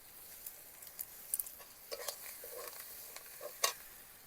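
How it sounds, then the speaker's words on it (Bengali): Masala with chopped coriander leaves being stirred in a sizzling pan for a cauliflower and meat curry, a faint steady fry with scattered scrapes and clinks of the spoon, heard close and quiet. "কয়েক সেকেন্ডের জন্য একটুখানি নেড়ে নেব, তারপর অল্প একটু জল দিয়ে মশলাটাকে কষিয়ে নেব।"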